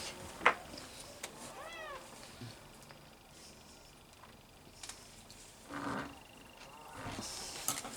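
A cat meows a few times, short and fairly faint, amid quiet background noise and occasional knocks, with a voice briefly heard.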